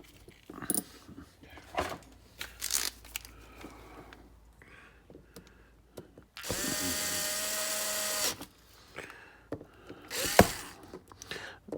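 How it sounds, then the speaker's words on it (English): An electric screwdriver with a sensitive clutch drives screws on an RC car center differential, with one sustained whirring run in the middle and short clicks and tool handling around it, up close. "This screwdriver has a really sensitive clutch on it, so I'm not afraid to use it."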